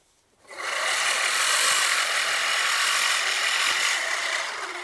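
An Earthwise hand reel mower with seven blades is pushed across a lawn, starting from quiet into a steady, bright whirring rustle of spinning blades clipping grass that holds evenly for several seconds before easing slightly.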